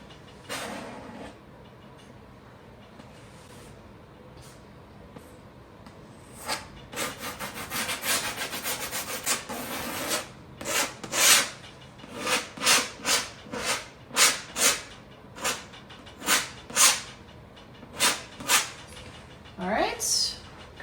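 A palette knife scrapes and spreads acrylic paint across a canvas in a mountain landscape painting, giving a run of raspy, rubbing strokes that start faint and turn into louder, evenly spaced swipes in the second half.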